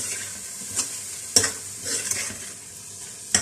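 Tomatoes and spices for a mutton keema and kidney dish fry in a pan under a soft, continuous sizzle, broken by a few sharp scrapes and clinks of stirring, with no talking.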